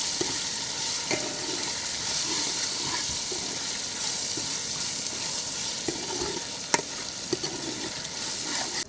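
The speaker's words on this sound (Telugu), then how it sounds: "అల్లం ఎల్లుల్లిపాయ పేస్ట్ కూడా బాగా ఎగిపోయిందండి" Onions and ginger-garlic paste fry loudly for a gongura chicken pulao, a dense continuous sizzle with occasional spoon scrapes and clinks close by.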